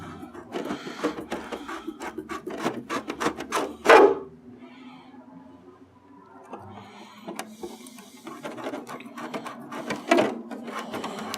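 A hand tool works marked holes in an RC car body shell, giving bursts of close, sharp scraping and clicking in quick uneven runs, with a quieter gap in the middle.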